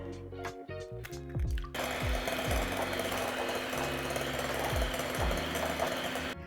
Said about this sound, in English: we're gonna combine eggs and sugar together and just whisk them up until they're fluffy